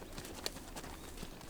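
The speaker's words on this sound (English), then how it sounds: "Horses quietly come to life in the corral" Horses stir in a ranch corral at sunrise, with faint hoof clip-clops and quiet movement over a soft outdoor background, one brief sharp knock standing out.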